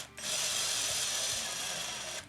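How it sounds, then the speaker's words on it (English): A power drill whirs steadily for about two seconds during assembly of a DIY electric guitar kit, starting abruptly and holding a loud, even buzz close by before cutting off. "I'm going to use a power drill here."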